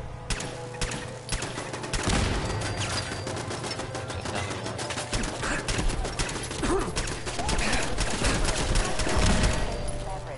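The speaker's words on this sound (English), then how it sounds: "Ah, it is turrets." Turrets firing in Fallout 4's Nuka-World, a dense continuous rattle of rapid automatic shots lasting throughout, close and loud, with occasional speech mixed underneath.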